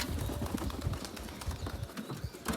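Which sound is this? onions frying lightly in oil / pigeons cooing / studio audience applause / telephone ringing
pigeons cooing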